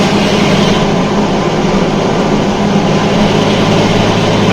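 A 1971 Series 1 Datsun 240Z's engine pulls steadily in fifth gear, giving a loud continuous low drone with road and wind noise and no breaks throughout.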